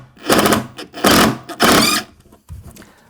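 A stainless steel decking screw is driven into an MDF stair tread, the driver whirring in three close bursts followed by a short final spin.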